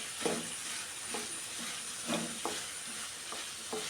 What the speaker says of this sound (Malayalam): ഇളക്കി കൊടുക്കുന്നുണ്ട്.